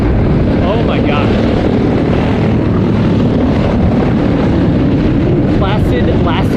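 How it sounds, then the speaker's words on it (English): A propeller airplane flying at an air museum event, a loud continuous engine drone mixed with heavy wind buffeting across the microphone, while people talk over it outdoors. "Look at that plane."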